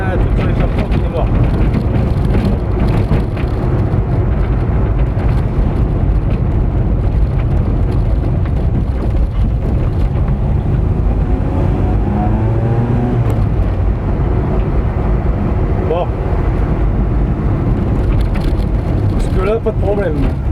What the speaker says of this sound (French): moi, ça fait un bruit de rallye, donc j'ai bien tout sur l'échappement qui est mort.